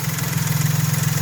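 A small engine idling steadily up close, a low pulsing hum with an even, rapid rhythm and no other sounds.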